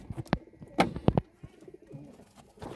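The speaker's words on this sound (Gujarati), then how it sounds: "તો ચાલો હવે કબૂતર આપણા બહુ તરસા થઈ ગયા છે" Pigeons coo close by in a few short, throaty bursts separated by quiet gaps, with soft scuffling and movement between calls.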